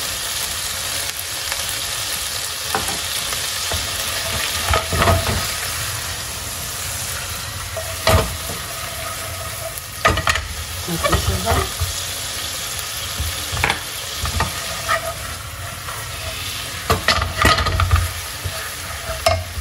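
Mushrooms and chicken gizzards fry over high heat in a pan as vinegar is added, a loud continuous sizzle with scraping stirs and occasional louder spitting bursts, close and steady throughout.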